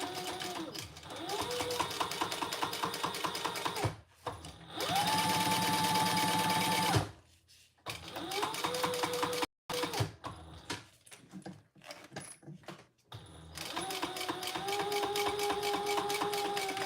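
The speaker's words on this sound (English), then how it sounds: "Now let's top stitch that in place." A sewing machine top stitching fabric while making a traveler pouch, running in several steady whirring bursts with short pauses between, close and fairly loud.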